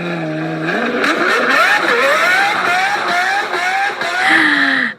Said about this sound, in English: I don't think any parent would be happy to hear their child revving a car like that